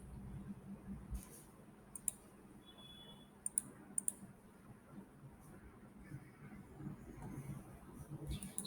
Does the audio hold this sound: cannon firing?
no